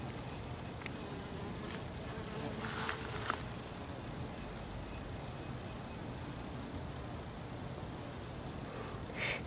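A bee buzzes steadily among luffa flowers outdoors in a soft, continuous drone. A few faint rustles sound close by.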